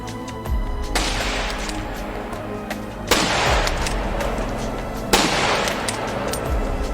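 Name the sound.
scout sniper rifle shots in Counter-Strike 1.6 video game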